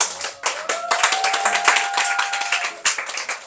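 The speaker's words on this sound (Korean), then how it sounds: "축하의 박수 드리겠습니다." A church youth service congregation claps steadily in a dense burst of applause, with a sustained tone ringing through the middle.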